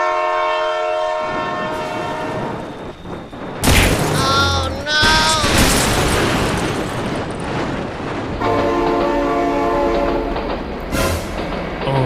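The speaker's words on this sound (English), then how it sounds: "Oh my god, train!" A train in the BeamNG.drive driving game sounds its horn in long, loud sustained blasts over steady rolling rail noise, with shouting voices breaking in midway.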